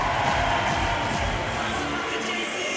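Sold-out crowd of Brazilian and Canadian supporters cheering and roaring in an arena in North Paris during a women's sitting volleyball bronze medal match, a dense, steady wall of crowd noise throughout.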